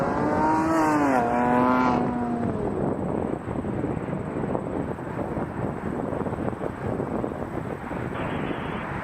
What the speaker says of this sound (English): Be an Airbus A330 coming in from Dublin